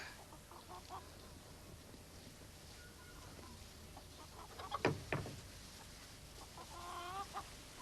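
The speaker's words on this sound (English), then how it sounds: "We've got a lot of hens in here." Hens in a farm pen cluck and chatter in a busy flock, with a louder burst of squawks midway as feed is thrown, over a steady low background.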